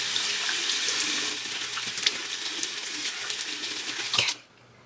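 A tap runs steadily into a sink while someone splashes water to rinse their face, a close rushing flow with small splashes that cuts off abruptly near the end, with no talk.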